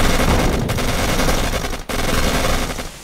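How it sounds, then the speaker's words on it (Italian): Sustained battlefield gunfire in the wartime strategy game Codename Panzers: loud, dense rapid-fire bursts rattling continuously, with a brief dip midway before the shooting resumes. "Ci sparano!"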